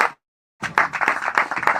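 Brief burst of audience clapping at a real estate seminar in Nigeria, starting abruptly after a short silence, dense and moderately loud.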